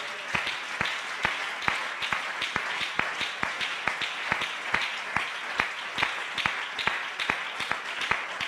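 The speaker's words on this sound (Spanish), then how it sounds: "Denle un aplauso a la gloria de Dios" A congregation at a Spanish-language church service claps together in a steady, rhythmic unison beat. The claps are sharp, evenly spaced and fairly loud, with no talking over them.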